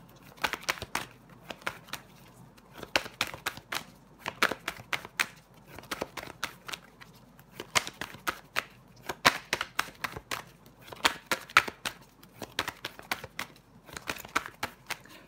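Tarot cards are handled and laid down over the Judgement card, a long run of crisp papery slaps, snaps and rustles in irregular bursts, close and fairly quiet.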